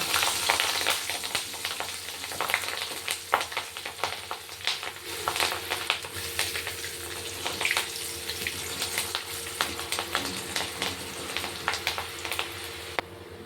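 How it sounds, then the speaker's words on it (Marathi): Green chilies frying in hot oil for a crispy fried poha chivda; a loud, continuous crackling sizzle with sharp popping bursts throughout, close up and without any talking. "तर मिरची फ्राय करून घ्यायची"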